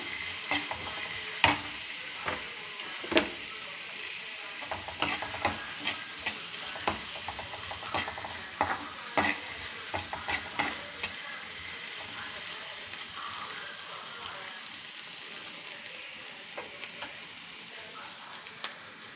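Chinese potato and raw banana thoran is stir-fried in a pan, with a faint continuous sizzle broken by repeated sharp ticks and scrapes of a spoon against the pan.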